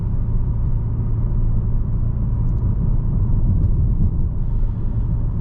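A 2025 Kia K5 GT rolls over uneven, bumpy pavement, heard from inside the cabin as a steady, loud low rumble of road and engine noise that holds without breaks or talk.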